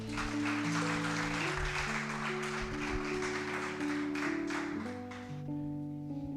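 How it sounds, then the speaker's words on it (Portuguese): Church congregation applauding during a sermon, sustained clapping at moderate distance with a swelling musical backdrop beneath it that fades near the end. "Você pode aplaudir Jesus?"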